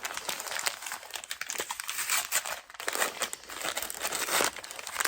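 A paper envelope being opened, with continuous close crinkling and tearing of paper throughout, loud and alone without talk.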